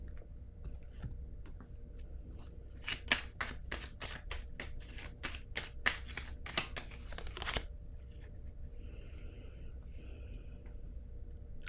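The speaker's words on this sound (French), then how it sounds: "Je vais piger une carte sur l'enfant." A card pulled from a deck: a rapid run of about a dozen crisp riffling flicks in quick succession, close and fairly faint against a quiet room, followed by softer rustling.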